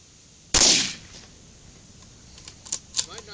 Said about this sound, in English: Hurry up and fucking shoot it again.